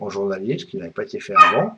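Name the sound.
dog barking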